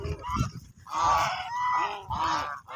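Farm geese honk loudly and repeatedly as they run toward the farm, several harsh nasal calls close by in quick, uneven bursts.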